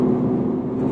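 BMW 330i G20 with an 8-speed automatic gearbox downshifting, a brief steady engine drone with a low hum that holds at one level, close and alone.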